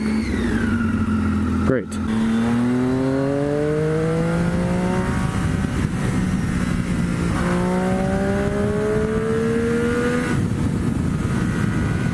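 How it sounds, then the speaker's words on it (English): A giant truck hauling an even larger broken-down truck rolls past, its deep engine drone rising in pitch as it pulls through gears, loud and close, with brief speech at the start. "we have a giant truck hauling an even more giant truck."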